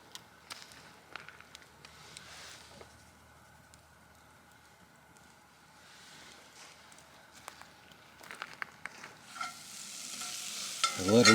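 Southwestern Egg Beaters fry in a pan at a truck campsite, a steady soft sizzle with occasional scraping stirs and clinks, louder crackle building near the end.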